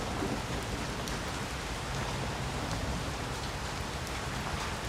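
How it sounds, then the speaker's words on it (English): Steady, dense rain pours down without a break, a constant close hiss of drops with no voices. "Relish the rains and play in the puddles."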